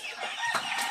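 At a game farm in Canlaon, Negros Oriental, chickens cluck in a short, close burst over a steady background hum.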